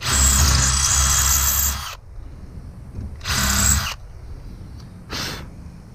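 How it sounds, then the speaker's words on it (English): Power drill spinning a bit against the edge of a Honda Rancher ATV snorkel part, a long whine followed by two shorter bursts with quiet gaps between, close up. "take our drill bit that we used"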